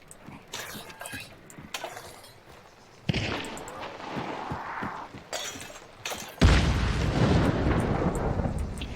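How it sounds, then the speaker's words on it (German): Hunt: Showdown gunfire cracks in scattered bursts amid loud booms and rumbling blasts, with people talking over the action. "Die Schüsse kamen von links noch."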